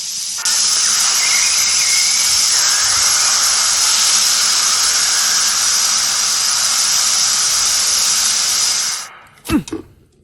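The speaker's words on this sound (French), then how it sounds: "on coupe le gaz et on laisse partir la vapeur" Steam escapes in a loud, continuous hiss from a pressure cooker of soybeans being made into natto after the gas is turned off. The hiss runs steadily for about nine seconds, then stops, followed by a couple of sharp metallic clanks.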